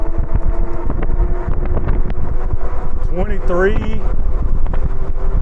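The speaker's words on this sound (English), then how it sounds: "I got some serious headwind going on." Strong headwind buffeting the microphone while riding a 52-volt Jasion RetroVolt Pro e-bike, a steady low rumbling wind noise with a faint motor whine rising briefly; someone speaks briefly over it.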